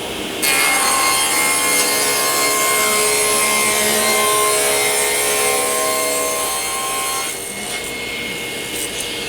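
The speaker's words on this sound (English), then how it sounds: "I'm going to do that on the table saw" A table saw rips through oversized wood stock for a table leg, one sustained loud cut with a whining blade tone that eases off near the end as the piece clears.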